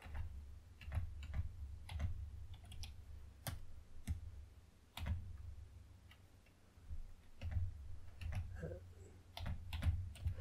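Someone types on a computer keyboard nearby, with scattered, irregular key clicks over a low steady hum. The clicking comes in short bursts with gaps between them.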